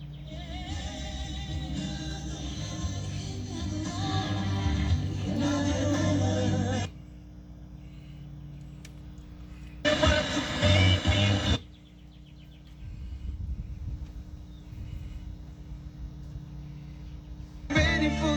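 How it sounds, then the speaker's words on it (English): Early 1950s all-steel Califone tube PA turntable with a large Jensen speaker, giving a steady low mains hum while the tuner sweeps through bursts of static and station noise, the hum carrying on between the bursts. "Only getting moderate hum. Gonna tune down to a non-copyright station."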